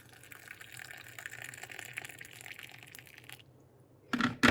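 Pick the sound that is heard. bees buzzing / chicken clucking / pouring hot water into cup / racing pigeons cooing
pouring hot water into cup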